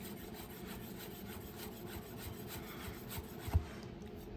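A knife cuts finely through a head of cabbage for a burger topping, giving a steady, close rasping shred with rhythmic strokes and one sharper knock near the end.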